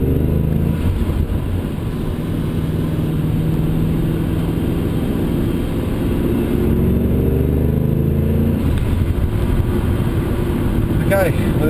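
A 416 cubic inch LS3 V8 in a Holden Monaro GTO accelerates during a road test, a loud continuous engine drone rising in pitch with people talking over it.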